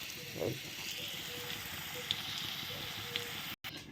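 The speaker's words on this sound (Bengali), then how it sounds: "এখন আলুগুলো উঠিয়ে এই বেগুনগুলো দেবো" Eggplant pieces frying in hot oil in a home kitchen pan, a steady low crackling sizzle held throughout with faint clinks of a ladle.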